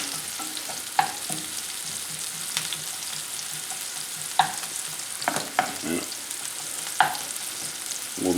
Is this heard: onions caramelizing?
yes